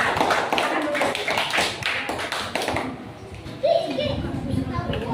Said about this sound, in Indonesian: berikan tepuk tangan untuk kelompok Maisha